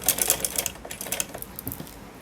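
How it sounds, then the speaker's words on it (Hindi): Sewing machine stitching the waistband of a beltless salwar, a close burst of rapid clattering stitches that starts loud and thins into lighter, irregular ticks. "और अब हम इनके ऊपर से सिलाई लगा लेंगे।"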